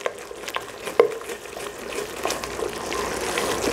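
Panang curry paste fries in a pan while being stirred continuously, a low sizzle with wet scraping and spatula taps, close and fairly quiet throughout.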